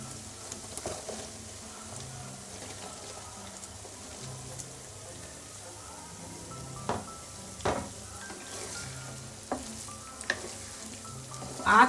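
Green chilies fry with garlic paste over low heat for a pickle, a quiet steady sizzle with a low hum and scattered crackles and occasional stirring scrapes, nobody speaking.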